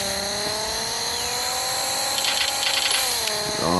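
A 2016 race car in the video game Racing Rivals launches from the start line, its engine note a loud, high, steadily rising whine that climbs through the revs before a shift near the end, with no talk.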